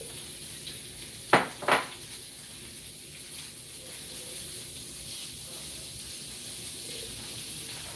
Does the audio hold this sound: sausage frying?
yes